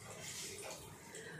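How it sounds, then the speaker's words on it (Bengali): Running water from a kitchen tap splashes steadily as food is rinsed under it, a continuous close hiss and patter lasting about a second and a half with no talk. "দাঁড়াও আমি একটু কলের মধ্যে এটা একটু ফেলে ধুয়ে জলটা দিই"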